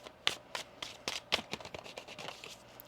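Oracle cards are shuffled by hand in a quick run of soft, close riffling flicks and slaps, about a dozen light strokes with no talk.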